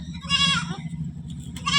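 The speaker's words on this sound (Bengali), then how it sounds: "এই যে দেখাচ্ছি ছাগলগুলো, এতগুলো ছাগল" Goats on a farm of about a hundred animals bleat close by, two or three quavering calls in quick succession over a low background murmur.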